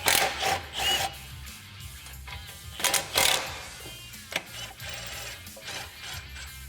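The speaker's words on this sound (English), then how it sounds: "We'll have two 10mm bolts on the bottom." Ratchet clicking as 10mm bolts are loosened on the front bumper of a Kawasaki Teryx, several bursts of rapid mechanical ratcheting with brief pauses and small metallic clinks, close and moderately loud.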